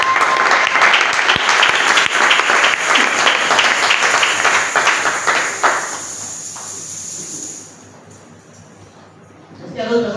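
A church congregation claps together in loud, sustained applause for about six seconds, then the clapping thins out and fades to a quiet room with a few scattered sounds.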